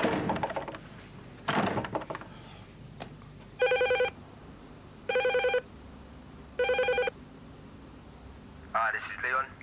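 A landline telephone rings three times in regular, evenly spaced bursts, each about a second long, following some muffled thumps and brief talk, before an answering machine picks up.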